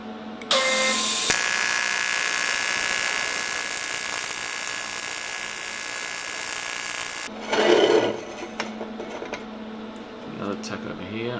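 Tack welding during metal fabrication on a backyard car project: one long, loud crackling hiss for several seconds, then a short burst and quieter clatter, with someone talking nearby.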